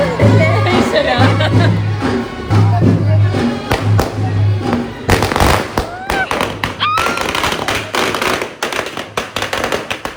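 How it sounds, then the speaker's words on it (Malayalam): Firecrackers set off at a home festive gathering crack and burst loudly and close by, in rapid irregular volleys. A crowd chatters and a speaker talks over the bangs. "സാഹസികമായ പടക്കം പൊട്ടിക്കലാണ് നിങ്ങൾ ഇപ്പോൾ കണ്ടുകൊണ്ടിരിക്കുന്നത്"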